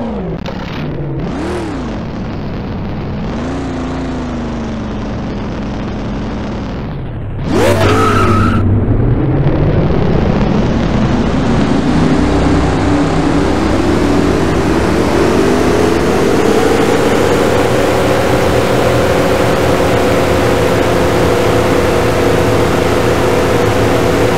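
A race car in the NASCAR Racing 4 video game at Las Vegas, its engine rising and falling in pitch through the opening seconds before a sharp tire skid, then a loud sustained engine roar with continuous tire noise, with no talking.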